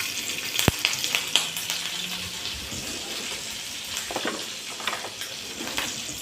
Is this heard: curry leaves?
yes